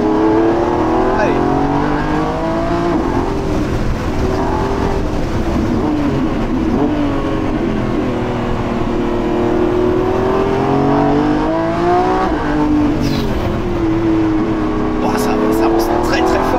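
A Lamborghini Revuelto V12 hybrid, 1015 hp, pulls hard from inside the cabin with the engine note rising through the gears in loud sweeping surges, and a driver's voice is heard over it.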